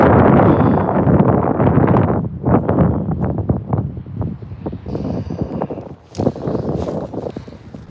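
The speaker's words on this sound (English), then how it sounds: "Yeah, it's the wind probably." Strong wind buffets the microphone during a lake effect snow squall in Oswego, a loud continuous roar with gusty surges and brief lulls.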